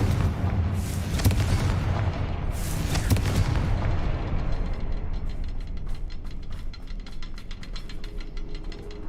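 A Confringo fire spell going off in the video game Hogwarts Legacy, with booming blasts in the first few seconds rolling into a crackling, rumbling tail that fades gradually, loud and close.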